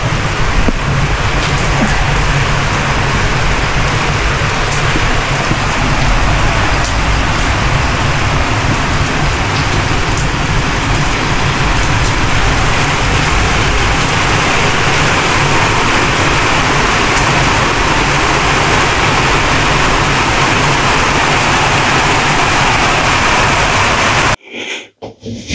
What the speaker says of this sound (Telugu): వర్షం పడుతుంది బయట బాగా.